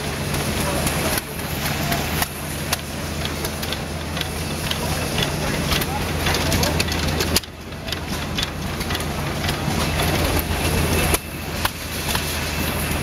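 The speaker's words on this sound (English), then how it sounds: "I love these antique engines." Antique engines run at an agricultural fair, a steady mechanical chugging and rattling drone that carries on throughout, with background crowd noise and a voice talking now and then.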